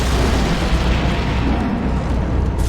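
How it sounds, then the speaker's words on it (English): A cannon in the video game Serious Sam 3 fires and explodes, giving a loud, dense, continuous boom and rumble that fills the whole stretch before tailing off briefly at the end. "let's have the cannon out and take out the secret legend of the beast"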